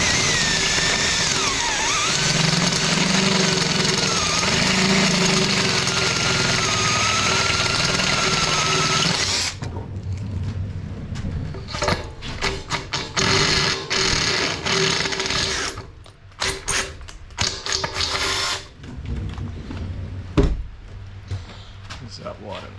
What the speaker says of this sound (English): I just got to drill this center hole out